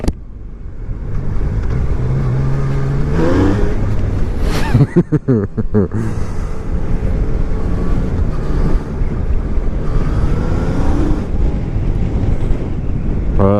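A 2019 Yamaha Niken three-wheeled motorcycle engine pulls under heavy wind buffeting, its rising harmonic whine climbing through gear changes around the middle of the ride, loud and continuous.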